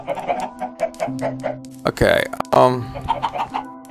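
Chickens in the Minecraft video game cluck in short, repeated bursts throughout, sitting under a person's steady talking, with a louder noisy stretch near the middle.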